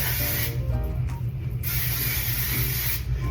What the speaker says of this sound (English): I'm gonna take a little bit of hairspray, get this up there